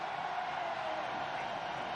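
A huge crowd at the MotoGP French Grand Prix creates a steady, distant roar, an even wash of noise that holds without peaks for a couple of seconds.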